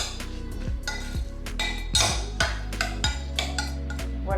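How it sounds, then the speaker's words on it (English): Cilantro, garlic and salt mixed together for chicken fajitas, giving a rhythmic series of soft clinks and scrapes at close range, about ten strokes, with no talking. "and we're just gonna mix it"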